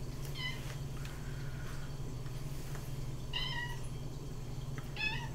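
A pet cat meows three times in a quiet room, each short call spaced a second or two apart, set over a steady low hum.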